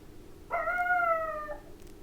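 A pet in heat gives a single rising, wavering howl like a little wolf's, lasting about a second at moderate volume over a quiet indoor hiss, with no voices.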